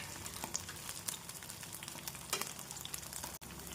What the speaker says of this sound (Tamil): நாம் இந்த அளவு எண்ணெய் அதிகமாக ஊற்றினால்தான் பன்னீர் நன்றாக வெந்து வரும்.